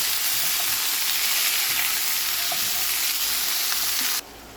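Ground lamb browns in a hot pan, giving a loud, steady sizzle with small pops and crackles throughout, cutting off abruptly near the end.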